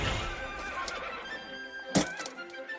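A horse whinnies in an animated anime scene, a sharp bright burst near the end of the clip, heard over layered background music and ambience without any talking.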